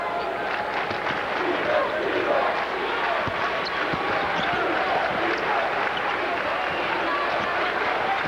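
High school boys basketball quarterfinal crowd of West Aurora fans in a gym, a loud, steady roar of cheering and chatter with scattered ball bounces and claps, continuous throughout.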